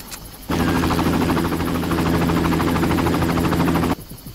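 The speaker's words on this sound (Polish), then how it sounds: "To jest ten helikopter spizgany" A helicopter in the video game Far Cry, its rotor beating as a loud, steady chopping drone that starts abruptly, holds for about three and a half seconds, then cuts off.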